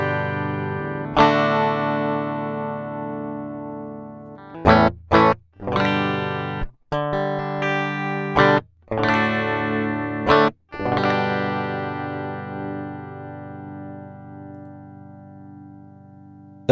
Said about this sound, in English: I have my guitar turned up, so let's see if we can hear it.